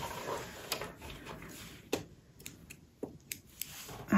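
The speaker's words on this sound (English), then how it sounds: "just going to trim the thread while I'm here" Scissors trim sewing thread after stitching a quilt block, giving a few faint, sharp snips and clicks spaced irregularly over a quiet room background.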